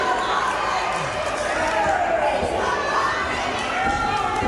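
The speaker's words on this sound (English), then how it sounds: "the fans here in Union, South Carolina, they're still cheering on Deon Johnson" Wrestling fans at a pro wrestling show in Union, South Carolina keep up a steady roar of crowd noise and cheering, a dense wash of many voices filling the whole stretch without letup.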